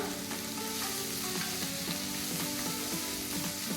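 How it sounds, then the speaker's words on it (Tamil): Onion and papaya sauté in a pan, a dense loud sizzle of frying filling the whole stretch, with repeated soft scraping strokes of stirring spaced regularly on top. "ஆனியன் நல்லா வதங்கணும்."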